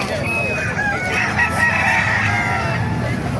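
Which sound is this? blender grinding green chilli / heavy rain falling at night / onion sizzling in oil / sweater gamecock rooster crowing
sweater gamecock rooster crowing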